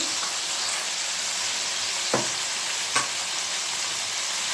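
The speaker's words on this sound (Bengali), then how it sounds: "ভাজা করবো এটা ভাজা ভাজা করে নিতে হবে" Oil sizzles and hisses steadily in a pan, with two brief clinks of a utensil partway through.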